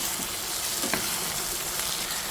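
Biryani masala sizzles steadily in a pan for a family Eid meal, a continuous close hiss of frying with a faint scrape of stirring partway through.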